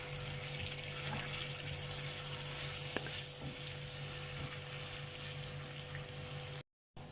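Onions frying gently in a pan, a steady soft sizzle that holds evenly throughout, with a faint tick partway through and a brief dropout near the end.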